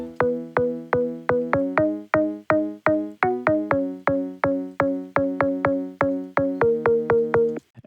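Pitched-up, saturated organ sample used as a transient synth layer in a deep house track, struck in a quick steady rhythm of short punchy chords, loud and close with no voice.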